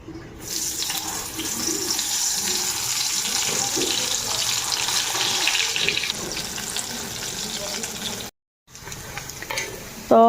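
Brinjal (eggplant) fries in a pan with a continuous, loud sputtering hiss lasting about eight seconds, then a brief silence, followed by a short return of sizzling and a clatter.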